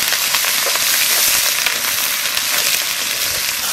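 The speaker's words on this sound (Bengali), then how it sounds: "মশলা ভাজিয়ে নিচ্ছি" Ground spice paste of cumin, coriander and green and dry chillies fries in hot oil for an aar fish curry, giving a loud, steady, dense sizzle that crackles continuously with no voices.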